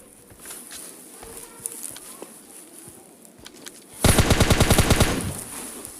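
M4 rifle fire in the mobile battle-royale game PUBG Mobile Lite arrives as a loud, rapid burst of about a dozen evenly spaced shots, following quieter footsteps and faint in-game rustling.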